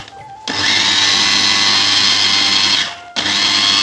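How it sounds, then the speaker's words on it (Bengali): A kitchen blender whirs loudly and steadily, mixing a mango and apple drink with cold water, running for about two seconds, stopping briefly, then starting up again; no talking. "এরপরে আমরা ব্লেন্ডার করে নেব।"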